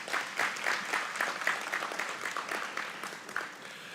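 Audience applause at a memorial lecture, a steady wash of many hands clapping through the whole stretch, fairly even in level, with no talk over it.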